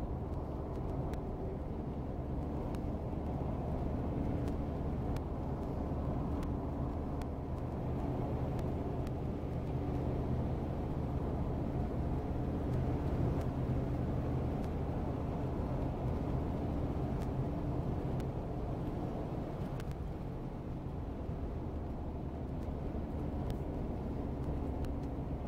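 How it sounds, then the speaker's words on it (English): Steady low engine and road rumble inside a 1975 Cadillac Sedan DeVille at highway speed, a constant dense drone with no talking. "At highway speeds, this car is incredibly smooth"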